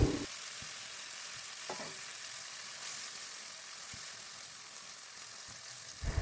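Cooked masoor dal poured into a hot kadai of whole garam masala, cumin and bay leaf tempering hisses, then gives a steady, close crackling sizzle with a few soft stirring knocks.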